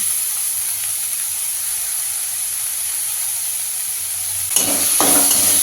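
Grated carrot sizzles in hot oil in a pan with spring onion greens, a steady hiss throughout that grows busier and louder near the end with stirring scrapes.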